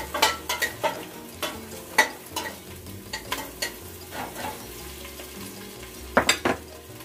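Onion sautéing in a pan for vegetable soup, a soft continuous sizzle broken by repeated clinks and scrapes of a utensil stirring against the pan, with a quick flurry of knocks near the end.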